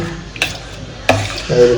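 A spoon stirs bel fruit sherbet mixture in a vessel, giving two sharp clinks against the sides followed by a softer swirling scrape.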